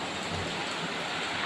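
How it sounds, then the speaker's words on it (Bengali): Very heavy rain pours down in a dense, steady roar of broadband hiss, loud and continuous with no talking, in Bhubaneswar, Odisha. "প্রচণ্ড জোরে বৃষ্টি হচ্ছে জাস্ট দেখো"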